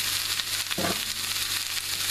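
Zucchini sautéing in olive oil in a pan over medium-high heat, a steady close sizzle with a brief louder burst of frying partway through, no talking.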